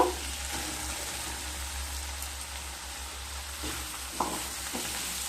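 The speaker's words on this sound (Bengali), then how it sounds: "আলুগুলো দিয়ে মশলার সাথে আবারও খুব ভালোভাবে কষিয়ে নেব" Boiled, cut potatoes sizzle in a pan while being stirred with spices over a low flame, a steady close hiss broken by a few scraping stirs and light clinks.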